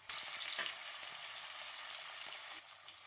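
Onions frying in a pan for a tomato bath, a steady close sizzle with a brief crackling burst early on and faint stirring, no voices.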